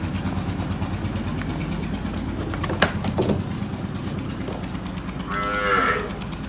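A Sahiwal dairy cow moos on a farm, a low drawn-out call standing out near the end over steady engine-like idling and yard noise.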